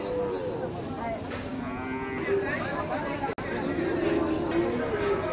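Cattle moo at a Qurbani cow market, their long, drawn-out lowing close by over a steady background of crowd chatter and people talking.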